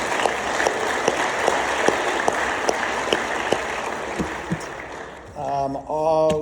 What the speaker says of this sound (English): let's give all our celebrants another round of applause